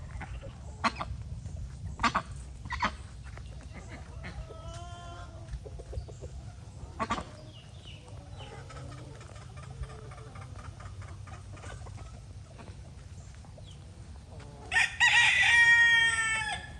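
Chickens cluck and cackle at a farm, scattered calls over a steady low background, then a loud close rooster crow rises near the end with no talking.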